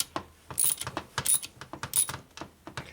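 Screws are tightened down evenly on a 1984 Shovelhead four-speed transmission, giving a run of quick metallic clicks and ratcheting taps in short irregular bursts, close by and with no talk.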